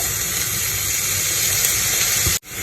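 Ground meat, about a quarter kilo, hits a pan of softened frying onions with a loud, steady sizzling hiss that holds strong and then cuts off abruptly near the end.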